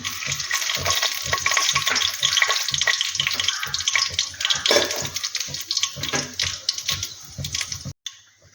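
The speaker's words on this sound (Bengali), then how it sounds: "কড়াইতে তেল গরম হয়ে গেছে, এতে আমি দিয়ে দেব এই যে কালো জিরে ফোড়ন আর একটা শুকনো লঙ্কা ফোড়ন।" Nigella seeds and a dried red chilli crackle and sizzle in hot oil in a kadai, a dense, steady frying hiss with fine pops, close up, cutting off abruptly near the end.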